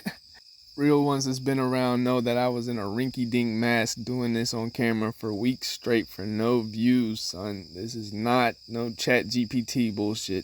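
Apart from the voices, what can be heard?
crickets chirping in the background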